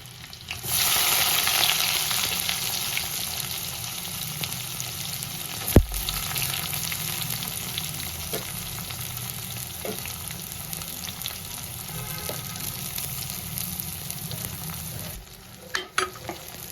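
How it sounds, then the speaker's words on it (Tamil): Sliced onions fry and sauté in a pan while making a taro-root kara kuzhambu, a steady broadband sizzle running throughout, with a sharp spoon knock near the middle and a couple of clatters near the end; no talking. "வெங்காயம் போட்டாச்சு, வதக்கிக்கலாம் நல்லா."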